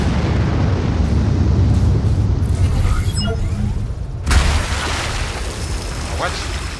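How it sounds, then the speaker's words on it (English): Nuclear missile explosion in the video game Anno 2205: a loud rumbling boom swells over a dense low roar, with a sharp burst midway, and a voice talks briefly over it. "Nuclear missile. Fire."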